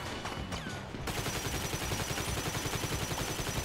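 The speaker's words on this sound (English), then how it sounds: "They're shooting her." Police gunfire in GTA 5, a rapid, steady stream of loud shots rattling on continuously after a brief opening of scattered noise.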